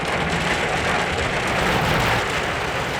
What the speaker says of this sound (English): Get inside, there's a mother of a hailstorm that's caught us here on the flat.